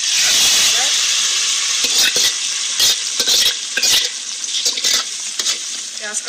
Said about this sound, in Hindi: प्याज का तड़का डाल दिया है।